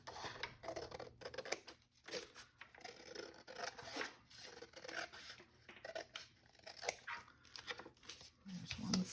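Scissors trim material with repeated short snips and rasping rubs, fairly close, over a busy background with some faint voice.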